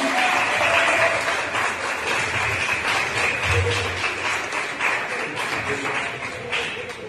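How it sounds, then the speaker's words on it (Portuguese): Congregation at a Portuguese-language church celebration service claps together in praise, a loud, continuous wash of hand clapping that holds steady throughout and tapers slightly at the end. "as palmas todas a Deus"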